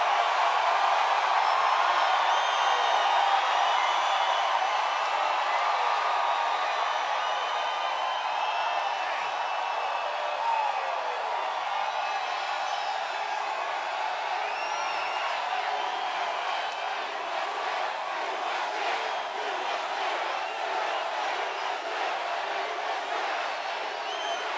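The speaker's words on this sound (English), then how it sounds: "That's some crowd." A large crowd at a campaign-style political rally in Missouri roars and cheers in a steady, dense wash of noise that holds for the whole stretch, loud and continuous without breaks.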